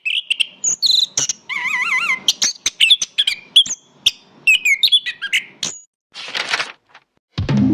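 An orange-headed thrush (anis kembang) sings loud, varied phrases close by, with rapid whistles, trills and warbled notes broken by short pauses, ending in a rougher burst of noise.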